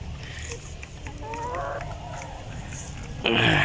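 Rhode Island Red chickens and a rooster clucking while being fed leftover rice and feed, with a few short calls over a steady low farmyard background and a louder burst of noise near the end.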